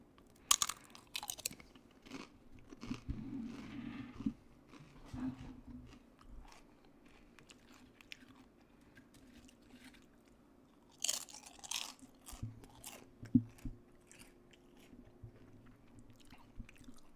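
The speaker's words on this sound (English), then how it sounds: "I'm eating some nachos." Crunchy chewing of nachos up close, crisp bites and mastication coming in bursts with quieter stretches between, no talking.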